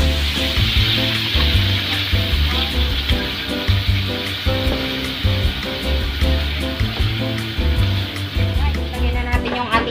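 Onions fry in hot oil in a pan for a Filipino pork caldereta, giving a steady, loud sizzle that runs throughout under background music.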